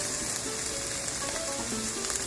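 Onions and garlic frying in a pan for aloo gobi, a soft steady sizzle with a gentle crackle, close and even, with no voices.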